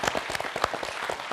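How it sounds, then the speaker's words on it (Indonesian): Brief, dense applause rises from a studio audience at a quiz show, steady throughout with a few louder claps standing out. "Kita beri tepuk tangan."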